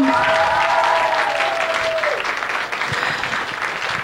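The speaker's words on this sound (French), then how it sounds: "on peut continuer à applaudir les participants gagnants" Loud, dense applause from an audience at a regional high-school student talent show in Soulanges, cheering the winning participant; the clapping fills the room steadily, with a brief tonal ring at the start.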